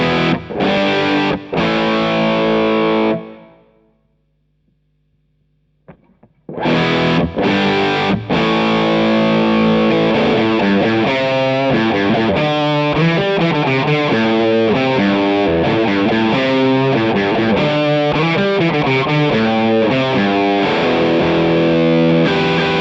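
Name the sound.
distorted electric guitar through Nux Cerberus with plate reverb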